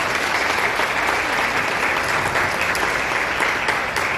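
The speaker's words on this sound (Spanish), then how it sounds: "Brindamos un fuerte aplauso, por favor." Applause from a seated audience at an academic lecture on bird diversity, welcoming a guest speaker; steady, dense clapping that fills the room at full strength and holds evenly for several seconds, with no talking over it.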